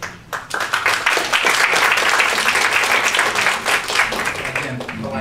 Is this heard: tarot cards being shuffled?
no